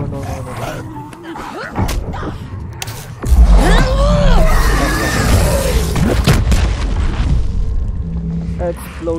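An explosion in the video game Dead Island 2 lands as a sudden heavy low boom partway through, with rumbling, chaotic game effects and a voice around it.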